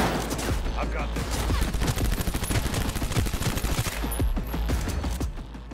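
Rapid gunfire in Cyberpunk 2077, dense and continuous for several seconds, loud and close with sharp repeated cracks over a low rumble.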